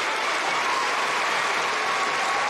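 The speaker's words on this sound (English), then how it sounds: "Let's give them another round of applause." A steady wash of clapping from an elementary school Veterans Day program audience fills the whole moment, even and sustained, moderately loud with no voices standing out.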